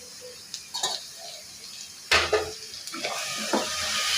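Cardamom powder and ghee being stirred into a coconut sweet mixture in a pan, with soft scraping and occasional spoon clinks over a faint sizzle, mostly quiet with a few sharper knocks.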